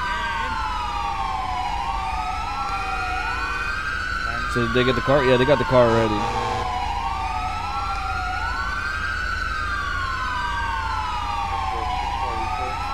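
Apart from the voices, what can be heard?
police sirens at a crash scene in video game GTA 5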